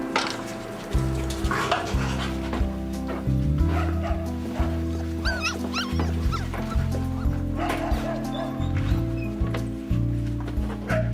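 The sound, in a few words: street dog and her puppies whimpering and yipping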